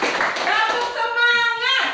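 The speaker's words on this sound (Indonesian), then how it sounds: "Tepuk tangan untuk kita semua." A school class of children claps together briefly, with rhythmic claps mixed with children's chanting voices and a sustained sung or shouted vowel over the second half.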